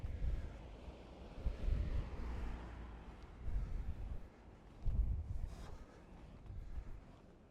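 Wind buffets the microphone in gusty bursts while someone rollerblades across a new bridge over the Bug River in cold weather, with low rumbling surges rising and falling throughout and no talk.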